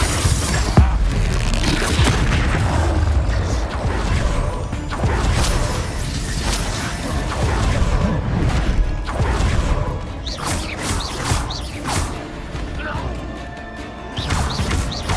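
Spell blasts in the Hogwarts Legacy video game, with repeated crashing, booming explosions and whooshes layered over dense combat sound and game music throughout.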